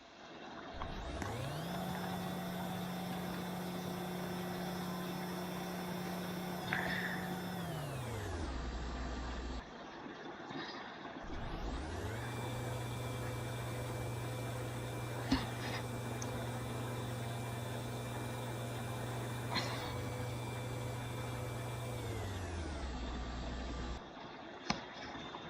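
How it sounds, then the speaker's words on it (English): PlusDoor CTS 101 DC commercial garage door opener with a DC motor in a showroom, running twice with a smooth rising whir, steady drone and winding down, with occasional clicks along the way. "This has a DC motor."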